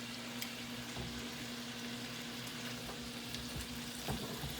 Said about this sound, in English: we're going to leave our bacon to cook